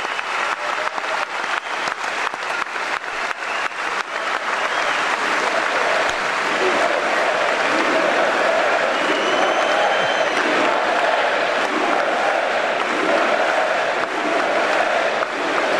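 A large crowd at the NRA convention in Dallas, Texas applauds loudly and continuously, with dense clapping and scattered cheers filling the hall throughout.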